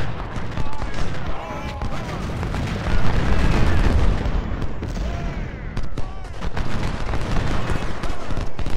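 Cannon artillery fire in the Civil War strategy game Ultimate General: Civil War, a dense continuous rumble of booms and volleys with overlapping battlefield noise throughout.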